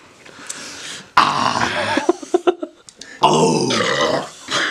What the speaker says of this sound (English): how are you getting the burps?